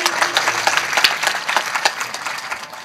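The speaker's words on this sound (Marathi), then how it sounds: "वाजवा टाळी." A kirtan audience claps together in a dense, steady burst of applause, close and lively for a few seconds with no talk over it.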